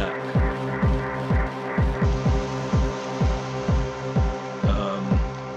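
A distorted ambient drone synth built in Ableton Operator, run through square-wave LFO modulation and bus crush and drive, throbs in a steady pulsing rhythm of repeated low swells under a sustained buzzing hum.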